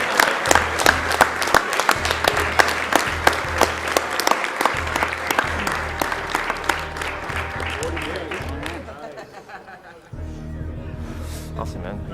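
A crowd at a Super Metroid speedrun marathon event claps for both runners, dense sustained applause with a voice talking over it, the clapping thinning out near the end.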